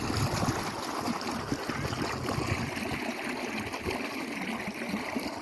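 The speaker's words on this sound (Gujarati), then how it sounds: "જુઓ આ કેવું સરસ પાણી આવ્યું જાય છે, ચોખ્ખું અને સરસ મજાનું પાણી છે." Clean water rushes steadily through a farm irrigation channel, a continuous close gurgling flow heard alone.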